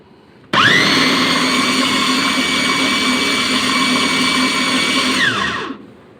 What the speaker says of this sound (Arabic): معلقتين شعريه كده، ضربتهم في الكبه بتاعه الخلاط اهي